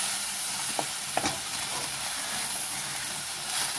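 Garlic frying in a pan for mushroom gravy gives a steady, close sizzle and hiss, with a few brief stirring scrapes near the start. No one speaks.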